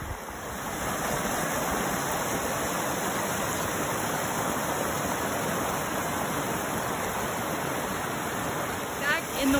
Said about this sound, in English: Back in the waterfall.